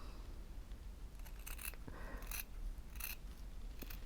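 Scissors cut organza ribbon to trim the base of a fabric rose petal, giving several quiet, crisp snips spaced out over a few seconds against a soft background hiss.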